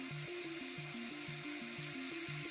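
Drilling in a played-back game video, heard as a quiet, rapid rhythmic grinding with a repeating stepped tonal pattern, several pulses per second, running steadily with no talk over it.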